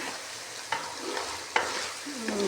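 Potatoes and cauliflower being stir-fried in a pan for aloo gobi, a steady close sizzle broken by a few sharp clinks and scrapes of a spoon against the pan.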